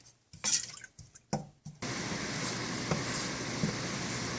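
Vegetable stock is poured into a cooking pot as a steady, moderately loud splashing stream, following a few short clinks and knocks.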